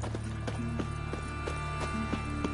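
Horse hooves in The Witcher 3 on PS5 clop in a regular walking rhythm, several sharp knocks per second over a low steady hum and faint tonal background.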